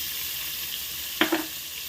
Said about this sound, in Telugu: జీలకర్ర పౌడర్ వేగింది అందులో ఉల్లిపాయ ముక్కలు వేసుకున్నాము